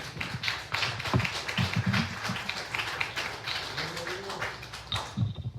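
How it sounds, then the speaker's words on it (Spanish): A church congregation breaks into sustained, dense clapping as an offering of applause to the Lord, with rapid overlapping claps at close range and faint voices underneath. "Denle una ofrenda de palmas al Señor"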